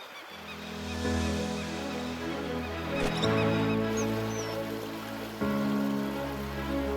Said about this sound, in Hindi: मर्गानसर बतखों का एक झुंड बेशकीमती महासीर को पकड़ने के लिए गोता लगा रहा है।